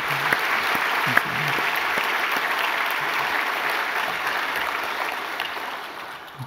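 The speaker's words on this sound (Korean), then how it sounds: "우리 박수하도록 하겠습니다" A church congregation applauds the choir and orchestra after worship, a dense, steady wash of clapping that fills the room and fades slightly at the end, with a brief spoken thanks near the start.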